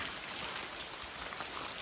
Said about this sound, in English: Now, back in the rain, here rumbles of thunder